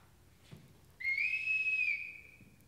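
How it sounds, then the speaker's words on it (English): A single shrill whistle blast, loud and close, held for about a second and then tailing off in a quiet room. "Everyone in this house answers to a whistle"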